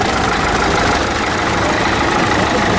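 A heavy vintage tractor engine idles steadily at close range at an auction, a continuous rough rumble with no pauses and no voices.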